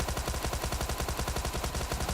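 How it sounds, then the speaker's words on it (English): A Tommy gun in PUBG Mobile fires a sustained burst of rapid, evenly spaced shots as suppressive fire, loud and close with no pause between rounds. "Suppressive fire."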